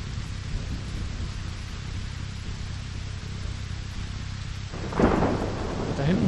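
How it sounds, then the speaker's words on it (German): A thunderstorm in the video game Cradle, with steady rumbling rain-like noise and a sudden thunderclap cracking loudly near the end. "Da hinten blitzt es auf alle Fälle die ganze Zeit."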